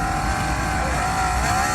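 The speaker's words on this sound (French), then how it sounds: "Donc, on enclenche le moteur sur la roue." An electric bicycle's wheel motor starts and hums steadily with a sustained whine that shifts slightly in pitch, close and continuous, with no talking.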